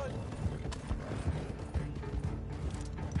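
Horse hooves in a video game, a steady, fairly faint clip-clop of galloping under mechanical creaks and background noise.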